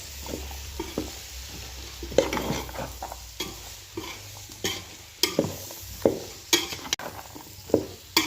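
Spiced vegetables sautéed in a pan for pulao, a soft sizzle beneath repeated spatula scrapes and knocks against the pan at an irregular rhythm, close by and with no voices.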